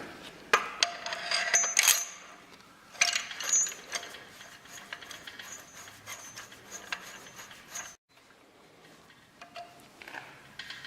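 Homemade tool fitting the harmonic damper onto a Turbo Caprice engine, giving quiet metallic clicks, ratcheting and scraping in uneven bursts, close by with a short pause near the end.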